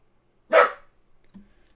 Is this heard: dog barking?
yes